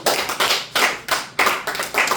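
Church congregation applauding during a sermon, with close, loud bursts of hand clapping arriving in about five rhythmic surges, each fading quickly before the next.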